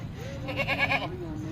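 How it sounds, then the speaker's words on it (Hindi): A goat bleats once with a wavering, drawn-out cry, close by, over a low murmur of background voices at a livestock market in Lahore. "ये बकरी है"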